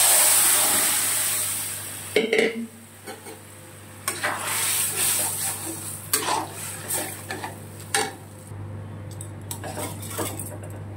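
Boiled lentils with fried salt and turmeric are stirred in a pot: a utensil scrapes and clinks against the metal in irregular strokes over a soft, steady sizzle, close and alone with no talk.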